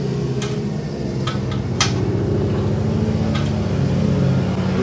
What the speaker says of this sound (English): goes the old noisy truck